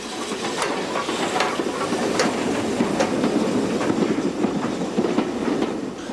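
Train on the West Somerset Railway's 20-mile branch to Minehead, a steady loud rumble of a moving train with rhythmic clickety-clack wheel beats over rail joints, heard close and continuous.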